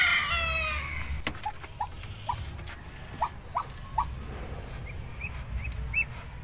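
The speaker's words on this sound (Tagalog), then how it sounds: "ito na po ang aming mga alagang bibi na nasa brooder" Ducklings kept in a brooder during the rainy season give a scattering of small, high peeping calls over a low, continuous mechanical hum, fairly faint and without voices.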